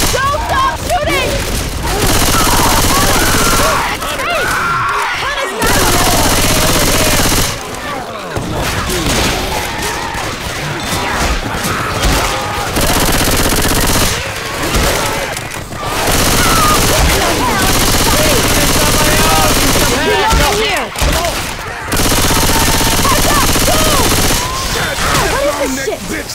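Rapid gunfire in the video game Left 4 Dead 2, dense bursts of automatic shooting and booms repeating in waves with short pauses, loud and close, with players shouting over it.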